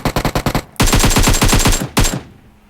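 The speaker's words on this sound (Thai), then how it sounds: "ยิงดิ ยิงแล้ว" Automatic gunfire in the video game PUBG: a quick string of sharp shots, then a longer loud sustained burst and one final short volley, close and dominant.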